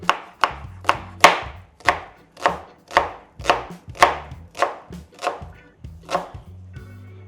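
A knife slices an onion on a cutting board, making a steady run of about fifteen crisp, evenly spaced chops, close and clear, slowing slightly near the end.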